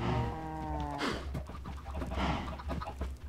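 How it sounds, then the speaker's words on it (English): Cattle mooing in the Minecraft video game, several low drawn-out moos in a row with chicken clucks mixed in, loud and close with no talking. "there's the cows again"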